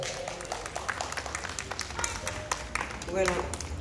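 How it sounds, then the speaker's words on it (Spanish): Guests at a family celebration, the 50th birthday of Jaime, applaud the godmother Sandrita with a steady wash of hand claps, while people talk underneath. "Un aplauso fuerte para Sandrita."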